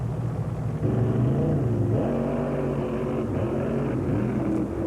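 A 1948 Fiat drag car powered by a small block Chevrolet engine with a turbo 400 transmission roars loud and steady at a drag strip, its pitch climbing in stepped surges as it accelerates, with no talk over it.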